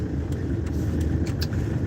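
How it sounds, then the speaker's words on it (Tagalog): Heavy road traffic crawling along Ortigas Avenue, a steady low rumble of car and vehicle engines close by, with faint higher swishes and hiss now and then, no talk over it. "Grabe ang traffic."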